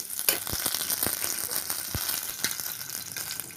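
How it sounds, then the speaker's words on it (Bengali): Dry red and green chillies frying in leftover fish-frying oil, a steady close crackling sizzle with scattered sharp pops and spits throughout, no voices. "শুকনো লাল লঙ্কা আর কাঁচা লঙ্কা আমি একটু মাছ ভাজার ওই তেলে ভেজে নেব"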